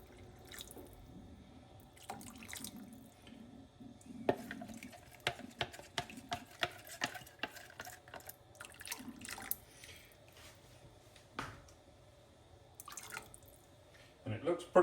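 2.5 cups of beef broth poured into a pot of American goulash, a soft liquid trickle and splashing with a few clinks and knocks, close up and quiet, with faint speech in the background.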